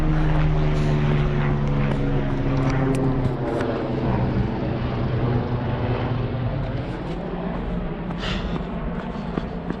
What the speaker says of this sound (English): So there's the helicopter.